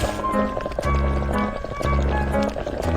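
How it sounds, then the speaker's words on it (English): Cartoonish bubbling and pouring of liquid in a video-game cooking scene as dried bonito flakes are boiled for broth, heard in short, regular bursts roughly once a second, close and moderately loud. "Let's boil the dried bonito flakes."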